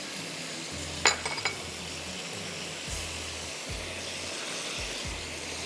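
Ground magaz seeds and cashews are stirred into a simmering kofta masala in a pot, a steady soft sizzle with a few brief scraping clinks of a spoon against the pan.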